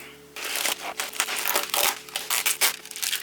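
A cardboard package is cut open with scissors, giving a run of loud crinkling, snipping and tearing bursts in quick irregular succession, close to the microphone with no talking.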